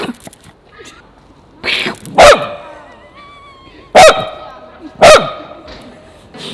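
A dog barks in a street in Riga, Latvia, with loud sharp barks at irregular intervals, some single and some doubled, over a busy outdoor background with people talking faintly.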